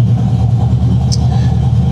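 A Chevrolet big-block engine running warm on an engine test stand, a loud, steady low idle rumble with a slight uneven throb throughout.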